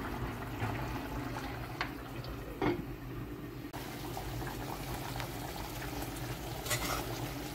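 Oxtail stew simmers in a pot on the stove, giving a quiet, continuous bubbling and gurgling with a few soft pops and brief clinks, heard alone without talk.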